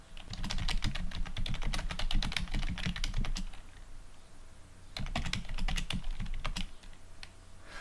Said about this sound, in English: Hit enter again, go ahead and put in our last bracket and hit enter.